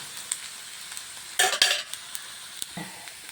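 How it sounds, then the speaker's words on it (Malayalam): Ginger sizzles steadily in a hot pan for a Kerala inji curry, with a couple of louder bursts of spoon-stirring scrapes midway and light clinks, no voices. "ഇനി നമ്മുടെ ഈ ഇഞ്ചി ഒന്ന് പകുതി ഒന്ന് മൂക്കട്ടെ"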